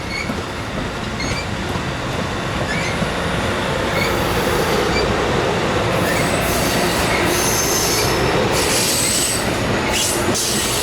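An Amtrak train, number 770, rolls into Fullerton station with a loud, steady rumble and sharp wheel squeals that rise and flicker toward the end, close by and with no talk.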